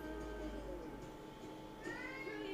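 A cat meows indoors, its plaintive cries rising over a steady low household hum, with one longer wavering call near the end.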